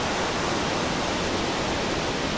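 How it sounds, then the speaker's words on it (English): Synthesized ocean waves for a relaxation soundscape built in VCV Rack make a steady, full-bodied wash of hissing noise, loud and unbroken with no voices. "gradually bring the ocean waves down so that basically, maybe about 10-15 minutes of the way in, they're low like that"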